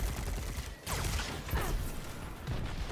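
Dense, continuous video game combat in Destiny 2 with grenade launcher fire, layered explosions and weapon bursts over a steady loud background mix.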